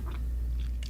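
Someone chews food in a quick, close burst of a few soft crunching bites over a low background hum.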